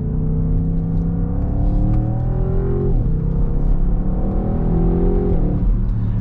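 Audi RS6 Avant 2020 V8 engine pulling hard through repeated gear changes, a loud, steady close-up drone whose pitch climbs, drops at each shift and climbs again, with no talking.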